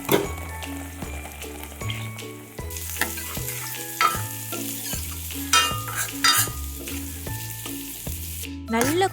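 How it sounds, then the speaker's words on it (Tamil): Steady sizzling of ground masala in a hot pan for mor kuzhambu, with repeated scraping and stirring strokes, fairly close and continuous, no voices. "இப்போ அரைச்சி வச்ச மசாலாவை சேர்த்து நல்லா கொதிக்க விடுங்க"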